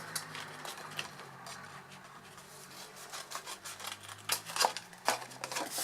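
Scissors snip wedges out of the corner tabs of a paper sock box for a Christmas craft, giving quiet, irregular cuts and rustling paper with a few sharper snips toward the end.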